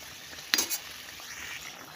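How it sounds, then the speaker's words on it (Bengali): Soft frying hiss with a quick clatter of a spoon stirring fried potatoes in a pan for fish-head muri ghonto, a couple of brief scrapes, then steady sizzling. "তো আলুগুলো সব দিয়ে দিলাম, দিয়ে নাড়াচাড়া করি"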